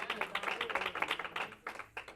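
A church congregation claps hands together in quick, steady rhythmic bursts, loud and close, with the clapping briefly thinning out near the end.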